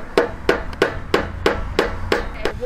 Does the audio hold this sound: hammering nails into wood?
yes